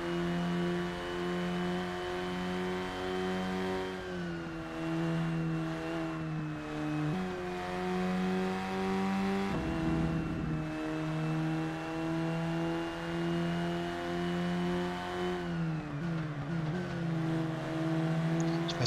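A racing car engine in the DTM Race Driver 2 video game holds a steady loud drone, with sharp pitch drops at gear changes as it accelerates again and again over the whole lap stretch.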